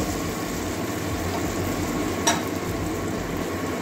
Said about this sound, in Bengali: তেল গরম হয়ে গেছে, এবারে এইভাবে পরোটাটা ভেজে নেব।